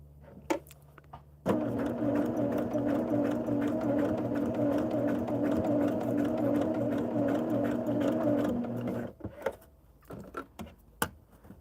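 A sewing machine stitches a twisted log cabin quilt block in one continuous, even, rapid whirring run of about eight seconds, loud and close, framed by quiet handling clicks before and after.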